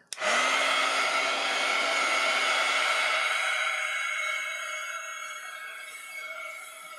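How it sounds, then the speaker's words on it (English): A hair dryer blows steadily to dry a painting, starting abruptly and holding a loud, close, constant whoosh that eases slightly toward the end, with no talking. "I need to make sure this is all dry before I do that, so I don't know if I'll leave the drying part in just because it's kind of loud"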